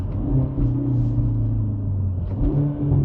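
2022 Hyundai Veloster N hatchback being driven on the road, engine giving a deep, steady rumble from inside the car with mild rev swells, close and continuous, no talk.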